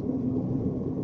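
Tire road noise inside a moving Proton Persona car, a steady low rumbling hum with no other sounds.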